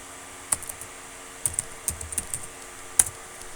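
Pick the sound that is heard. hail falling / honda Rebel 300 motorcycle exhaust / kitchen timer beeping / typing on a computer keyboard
typing on a computer keyboard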